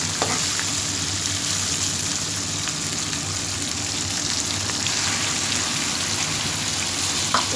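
Mutton frying in oil for Hyderabadi dum biryani gives a loud, steady, dense sizzle that crackles like rain without pause and with no voices.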